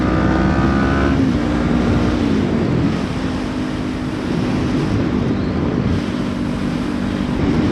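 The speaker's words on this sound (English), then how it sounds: "A massive neutral rev bomb." A motorcycle engine revs hard in neutral, a loud buzzing rise and fall under heavy wind rush while riding, pitch sweeping up and dropping within the first few seconds, then a steady drone.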